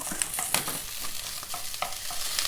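Vegetarian sausage fried rice stir-fried in a pot: a steady sizzle with repeated scraping and clinking of a spatula against the pot, close and continuous with no talk.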